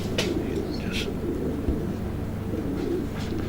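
A pearl-eyed pigeon hen coos softly in low repeated throaty notes, close by, with faint rustling and a few brief higher chirps in the background.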